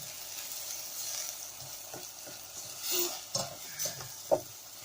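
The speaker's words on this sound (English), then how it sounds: "I'm going to put in the tomatoes" Skinned, mostly seeded tomatoes go into a hot pan and sizzle softly, with scattered clinks and scrapes from stirring rising above the quiet frying.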